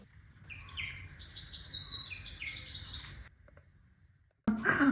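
Small birds chirp and twitter in rapid, overlapping calls in a quiet forest around a temple near Radhanagari. A short hush follows, then a final sharp burst of calls.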